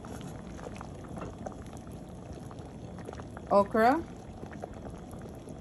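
Salmon fillet broth with green papaya, plantains and sweet potato bubbles in a pot, a soft steady boil running under a voice, with a brief louder burst of speech near the middle.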